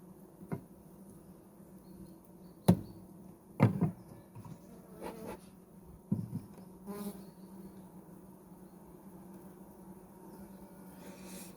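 A low, continuous drone of honey bees buzzing on a hive frame, fairly faint, broken by a few sharp clicks and knocks.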